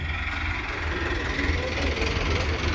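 Swaraj 963 FE 4x4 tractor with power steering, idling steadily at a tractor market, a continuous low rumble with a faint knocking pulse running throughout.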